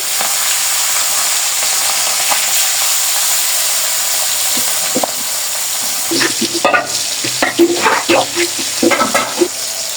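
Fish frying in oil in a kadai gives a steady, close sizzling hiss, joined in the second half by clattering stirs and scrapes of a utensil against the pan.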